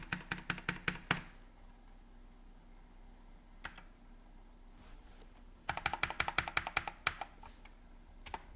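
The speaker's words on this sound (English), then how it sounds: "I'm typing this right into the chat window." Keys clatter on a computer keyboard as a message is typed into a chat window: a quick burst of keystrokes, a few isolated taps, then another steady run of typing, all fairly quiet and close with no voices.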